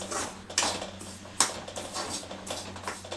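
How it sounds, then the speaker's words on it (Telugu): Upma semolina (rava) dry-roasting in a pan, with a spoon scraping and clinking against the metal in a few sharp strokes over a soft background, close by and with no talking. "ఇంకా మంచిగా కొంచెము ఈ రవ్వ మంచిగా వేయించుకుంటే మంచిగా వస్తుంది ఇట్లా దూరగా వచ్చేంత వరకు ఇట్లా వేయించుకోవాలి"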